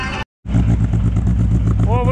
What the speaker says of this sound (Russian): Выхлоп какой мощный.